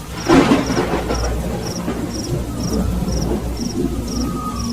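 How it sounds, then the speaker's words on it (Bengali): Thunder from a lightning strike on a nearby tree during a night rainstorm, a loud crack at the start rolling into a steady rumble over continuous rain, with a faint repeating chirp running throughout. "হঠাৎ আশেপাশে কোনো একটা গাছের মধ্যে কর কর করে জোরে একটা বাজ পড়ল"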